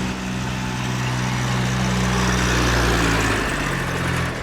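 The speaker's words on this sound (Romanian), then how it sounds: "Fără mașini, bine, poate doar un tractor." A tractor engine on car-free Koločep island in Croatia's Elafiti Islands, a loud steady mechanical drone with low hum that swells slightly toward the middle and holds close by, with no talking.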